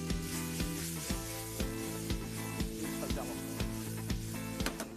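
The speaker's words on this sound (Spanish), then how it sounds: "Ojo que no se queme con el aceite. Eso es, ahí lo removemos bien." Mushrooms and paprika sizzle in hot oil in a pan while being stirred, a constant loud frying hiss with regular scraping clicks from the utensil and someone talking over it.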